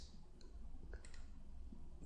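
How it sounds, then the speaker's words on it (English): A computer mouse clicks on a Save button, giving a couple of faint, soft, isolated clicks over quiet background hiss. "once you're done with that, you will need to click on Save"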